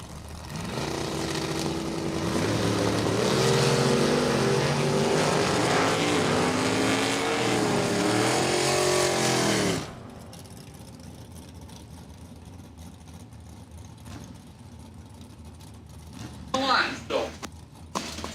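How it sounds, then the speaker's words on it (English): A Chevrolet S10 pickup and a first-generation Camaro roar down a drag strip at a spring racing event, a loud sustained engine wail for about ten seconds that then cuts away to quieter ambience with a brief burst near the end. "Peter Lano, left side, the S10 with a 680 on the window."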